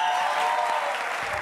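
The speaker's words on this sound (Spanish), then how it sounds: "Un aplauso para Erika, que ha subido al final la tía." Short burst of dense studio audience clapping on a late-night Spanish talk show, loud and even across the whole moment.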